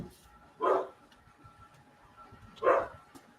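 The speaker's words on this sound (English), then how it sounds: "Fucking dog." A dog barks twice at a distance, two short muffled barks about two seconds apart over quiet background noise.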